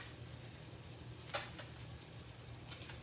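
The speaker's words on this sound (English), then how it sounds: "I've got my butter over here on the skillet just a sizzling." Butter fries in a skillet with a steady, quiet sizzle and a soft crackle partway through, continuous and close, no voices.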